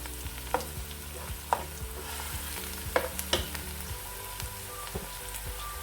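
Soft, steady sizzling of food lightly frying in a pan for potato egg curry, with intermittent scrapes and taps of a spoon stirring, close by and without talk.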